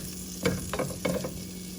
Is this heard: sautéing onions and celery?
yes